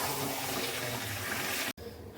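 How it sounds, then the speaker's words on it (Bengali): Water poured into a pot of braised mutton, a steady close rushing splash that stops abruptly near the end, followed by a quieter cooking hiss. "তো মাংসটাতে এই যে ফাইনালি জল দিয়ে দিয়েছি"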